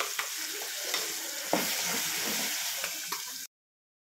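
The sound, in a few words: tomato chutney frying in a pan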